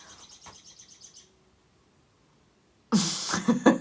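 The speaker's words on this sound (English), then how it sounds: "Dang, that bird was loud." A bird chirps in a fast, rapid twitter for about a second and then stops, followed by a gap of near silence and then a sudden burst of loud broadband noise close to the microphone.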